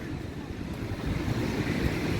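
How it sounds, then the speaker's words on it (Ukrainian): Continuous low warm wind rumble buffeting the microphone, steady throughout with faint surf-like wash in the background, on the beach at Durrës, Albania. "Оцей вітрець він дуже живописно тут все підкреслює."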